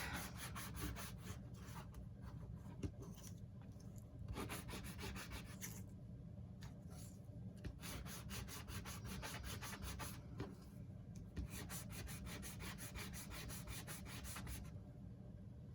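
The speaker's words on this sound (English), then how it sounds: "sanding block. And we're just gonna scuff this up really quick." A sanding block rubs back and forth over a paper craft piece in quick repeated strokes, a close, steady scratchy scuffing with brief pauses between bursts and no talking.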